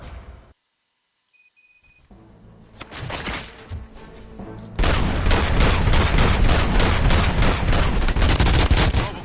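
Gunfire erupts in a RoboCop film scene: after a brief silence, scattered shots give way to a dense, loud, sustained fusillade with shattering and booms that runs to the end.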